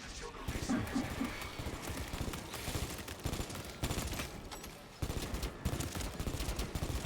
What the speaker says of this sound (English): this bolt pistol at close ranges does not work at all